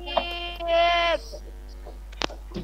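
A single goat bleats clearly and fairly close, one sustained wavering call lasting about half a second, followed by faint background sounds.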